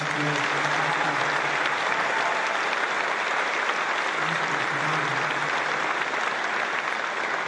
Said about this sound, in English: we want to be give a little special applause to somebody that's been so good